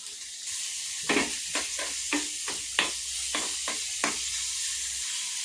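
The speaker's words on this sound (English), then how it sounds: "I'm going to add the onions. Just give it a stir." Chopped onions sizzle in hot oil for a tadka spiced with chili powder, a steady frying hiss broken by about ten sharp scraping stirs of a spoon against the pan, close and moderately loud.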